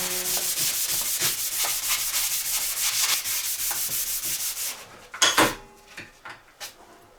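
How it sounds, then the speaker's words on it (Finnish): A wooden workpiece being sanded as it spins on a lathe gives a steady, close rasping hiss for about five seconds, then stops, leaving a few scattered knocks and handling sounds. "tää saapi sitten ihan sorvin pyöriessä hiottu"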